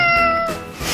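A cat gives a single close, loud meow with a clear tonal wail that trails off, followed by a brief softer sound.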